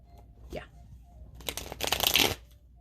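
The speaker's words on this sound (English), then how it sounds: "Do I want to shuffle this deck again?" A deck of cards shuffled close up during a card reading, a quick riffle followed by a dense burst of fluttering snaps, fairly quiet with a soft voice-like sound near the start.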